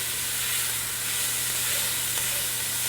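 Beef stock poured into a hot pan of softened onions and garlic sizzles and steams, a steady broad hiss that stays loud and even throughout with no voices.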